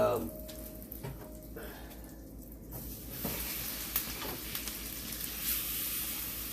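Garlic and onions drop into a pan of browning meat, setting off a loud close sizzle that swells after a few seconds of quieter frying, with a person talking at the start.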